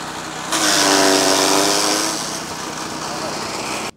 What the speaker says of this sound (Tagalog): magkakadurog-durog o magkaka-chop-chop sa pamamagitan po nitong ating shredder machine